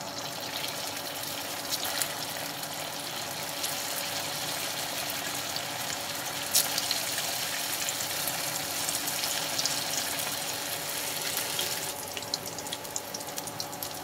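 Sabudana balls dropped into hot oil in a kadhai, giving a continuous fine sizzle and crackle, fairly soft and steady throughout, without speech.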